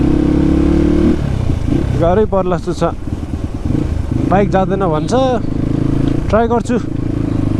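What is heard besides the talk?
motorbike revving in snowy traffic jam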